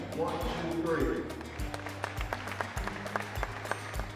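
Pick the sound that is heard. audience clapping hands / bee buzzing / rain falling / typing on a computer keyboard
audience clapping hands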